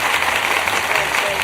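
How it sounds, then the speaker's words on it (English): Steady crowd applause fills the whole moment, dense and continuous, with a hint of voices mixed in. "Let me applaud it two more times."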